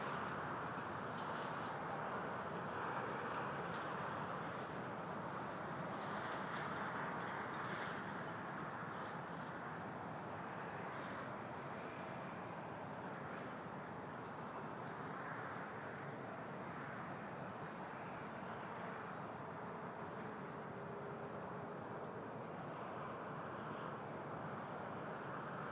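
A heavy LOT Polish Airlines jet approaching runway 15 left at Toronto Pearson produces a continuous distant roar, broad and steady, holding at a faint level throughout.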